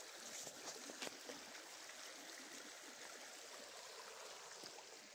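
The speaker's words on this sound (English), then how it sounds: "Creek's running pretty good today." A creek flows steadily, a broad continuous rush of running water outdoors with faint splashes, even and moderately distant, no voices.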